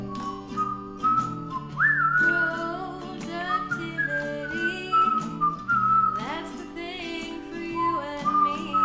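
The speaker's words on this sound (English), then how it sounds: "I can't hear him over the character whistling," A character in the video game Skin Deep whistles a tune, a steady melodic whistle of held and sliding notes running continuously in the foreground with little else behind it.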